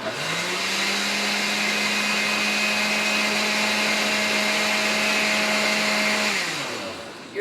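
A noisy electric blender runs at a constant high-pitched whine for about six seconds, loud and steady, then spins down and stops.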